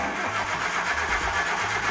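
A Nissan Micra with a swapped-in turbo engine turns over and settles into a steady mid-pitched running rumble, close and continuous, with no voices.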